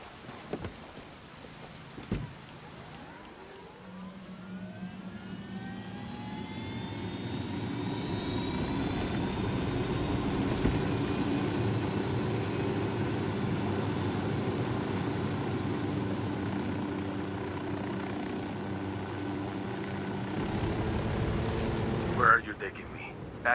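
A helicopter in the Ghost Recon video game spools up its engine, rising in pitch over a few seconds, then settles into a loud, steady drone that holds for most of the clip.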